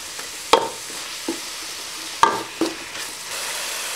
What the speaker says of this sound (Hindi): अब मैं आँच को करूँगा तेज़ और इन सब को थोड़ा सा करूँगा मिक्स